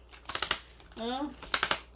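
A thin, shiny-finished tarot oracle deck is shuffled, producing quick riffling clicks in bursts at either end, with a brief tonal voice-like sound in the middle.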